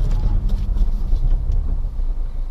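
A car rumbles close behind on a road during a snake-spotting drive, its low steady engine and road noise filling the short stretch with no talk.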